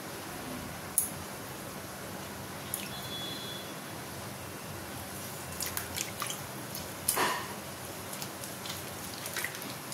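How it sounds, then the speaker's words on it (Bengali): Lemons are squeezed and rubbed by hand in water in a kitchen, giving faint wet squishes and small splashy clicks that come irregularly against a quiet background. "লেবুগুলো এই জলটায় কচলে নিচ্ছি"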